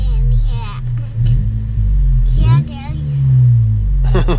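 A 2017 Honda Civic with an RV6 catless downpipe, muffler delete and cold air intake gives a loud, deep exhaust rumble that swells and eases close by. Voices talk over the engine.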